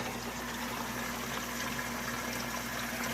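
A blue sump pump starts up and draws water down, giving a steady, faint hum over a continuous low watery churn with no voices.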